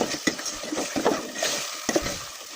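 Fish in a spiced masala of turmeric, chili powder and salt fries in a pan while being stirred, giving a close sizzle mixed with repeated scraping and clatter of a utensil, with no talking.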